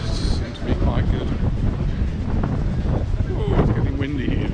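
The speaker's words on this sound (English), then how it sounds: "Oh, it's getting windy here, very, very windy." Strong wind blows outdoors in the seaside town of Cala Rajada on Mallorca, buffeting the microphone with steady low rumbling gusts throughout.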